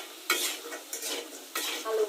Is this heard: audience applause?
no